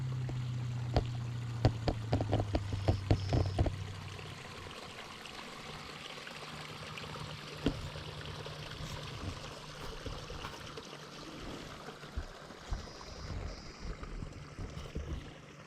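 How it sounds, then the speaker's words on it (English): Water from a natural spring runs steadily beside a river, a soft continuous trickle with a brief low droning hum in the opening seconds and scattered light knocks and splashes throughout. "there's a natural spring."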